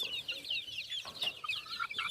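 Fighting-breed chickens, bred from a fighting cock and hen and kept apart in a cage or coop because they fight, cluck and chirp in a steady, busy chatter at close range.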